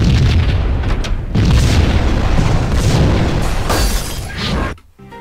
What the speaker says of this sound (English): you have to stay behind the trail of explosions